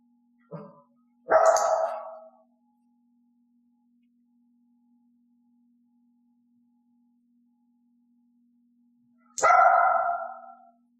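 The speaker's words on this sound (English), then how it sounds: "Elaine's offered bark ranged from a low growl to a quiet bark to a loud piercing bark." A dog gives one short yip followed by a loud bark, then after a long silence another single loud bark.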